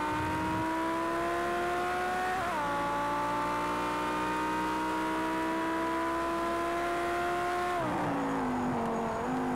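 Race car engine in Project Cars 2 on the original PS4, a steady sustained drone with harmonics that holds its pitch, dips sharply near the three-second mark, then drops again near the end as if shifting or lifting off.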